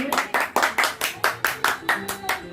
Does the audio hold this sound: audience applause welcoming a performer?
yes